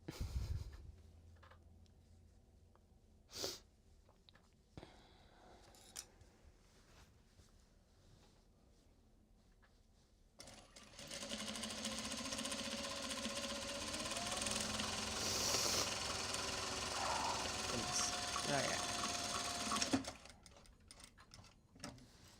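Sewing machine stitching Japanese fabric project bags, a steady mechanical whir with ticking gear clatter that runs continuously for about ten seconds after some quiet handling sounds, then stops.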